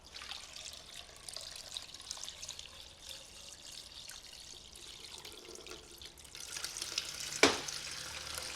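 Water trickles through a clogged Mr Funnel fuel filter in a faint, quiet stream that swells slightly near the end, with one brief sharp splash or knock.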